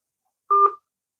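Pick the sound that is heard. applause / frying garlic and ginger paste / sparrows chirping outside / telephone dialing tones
telephone dialing tones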